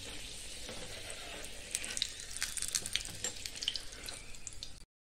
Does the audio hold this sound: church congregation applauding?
no